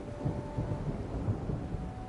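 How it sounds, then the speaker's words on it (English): Thunder rumbling low and continuous in Horizon Forbidden West, a broad distant roll with light rain hiss, no talking. "Oh, it's thunder."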